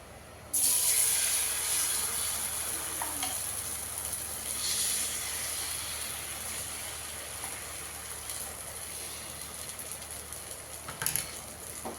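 Moong dal paste dropped into hot oil in a pan, a sudden steady sizzling hiss that starts sharply and holds fairly loud and close for the rest of the clip, with no talk.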